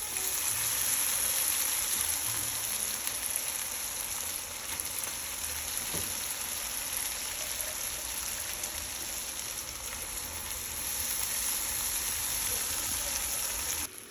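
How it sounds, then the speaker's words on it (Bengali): Lentils frying with spices and onion in a pan, a steady loud sizzle filling the whole stretch, with a faint scrape or stir partway through and no talking. "এটাকে এখন ভালো করে একটু কষায় নেব মশলাটার সাথে, পেঁয়াজের সাথে"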